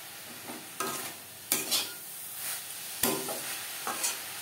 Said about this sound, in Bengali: গুড়ের সাথে নারকেল বেশ ভালো করে মিক্স করে দেব